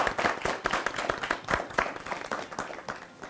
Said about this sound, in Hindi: सबसे पहले तो आप लोग अपने लिए तालियां बजाएं।